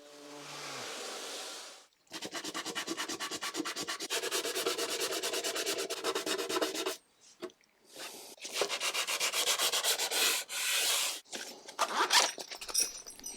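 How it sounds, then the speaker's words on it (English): Sanding the inside of a wooden furniture piece during restoration makes a close, steady abrasive rubbing in long continuous strokes with brief pauses between passes, with no voices. "Sanding, or at least cleaning the inside that you can't even see, is definitely not necessary"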